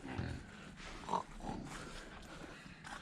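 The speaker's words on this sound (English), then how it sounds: "Yeah, this is a pig." Hogs on a farm in Florida grunt and snort in short, irregular bursts, fairly close and moderately loud, over steady outdoor background noise with no talking.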